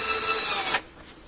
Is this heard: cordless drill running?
yes